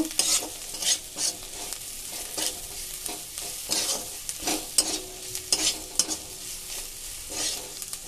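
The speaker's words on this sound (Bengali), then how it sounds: "আবারও সব কিছুকে ভালোভাবে মিশিয়ে নেব" Flattened rice with spices is stirred in a frying pan, with repeated bursts of scraping and rustling in an uneven rhythm over a light sizzle.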